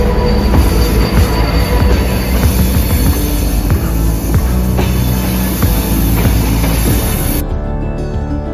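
A vintage Flamsbana Railway train running down its mountain line in Norway, loud and close, with continuous rumbling wheels and high squeals on the rails throughout, no talking.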